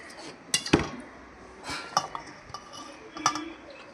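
Chopped onions go into a bowl for a mustard paste, producing several sharp clinks and knocks of utensil against bowl, irregular and close, with quiet gaps between them and no speech.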